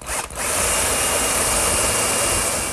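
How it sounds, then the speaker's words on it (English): A power drill boring a quarter-inch pilot hole partway into wood for a jig: a brief catch, then a loud, steady, close whine for nearly three seconds, with no talk. "I'll drill a quarter-inch pilot hole, but not all the way through, just enough to pick up that pin."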